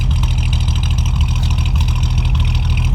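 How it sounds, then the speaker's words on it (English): A 1948 Chevy Fleetline two-door sedan engine idles steadily, a smooth even low hum with a faint light ticking on top, running alone without voices. "Engine sounds good. Typical sewing machine sound."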